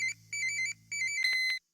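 Phone ringback tone in a video game, a few electronic trilling rings in steady bursts separated by short gaps, ending abruptly when the call is picked up, with no speech over it.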